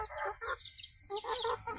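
Several close native Filipino chickens cluck and chatter in quick bursts with a short pause between, fairly faint with light background noise.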